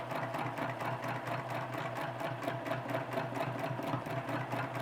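A sewing machine stitches a spiral line on fabric, a continuous, even mechanical whir with a fast steady pulse, close and fairly quiet, with no voices.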